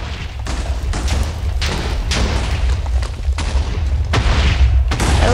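Minecraft TNT going off in a chain, a rapid series of heavy booming blasts and thuds layered over one another, loud and continuous across the whole stretch.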